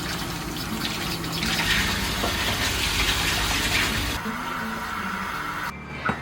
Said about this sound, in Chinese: 清洗的话，最好是要用热水，不要用冷水